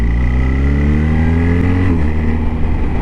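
A 2025 BMW R1300GS Adventure Trophy motorcycle engine rolls on in third gear, a loud close rising drone with steadily climbing pitch and a slight dip midway, no voices.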